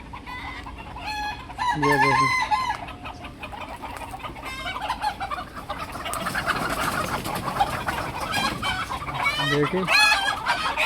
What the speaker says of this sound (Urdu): ہم لوگوں نے دیکھو مرغیاں بھی رکھی ہوئی ہیں ادھر